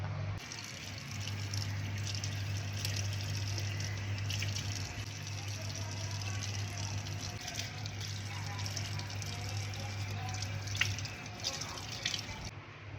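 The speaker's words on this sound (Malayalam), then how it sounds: "ഇനി നമുക്ക് കഴുകാം." Water splashes and drips steadily as a face pack is washed off at a sink, heard close with a low hum running underneath.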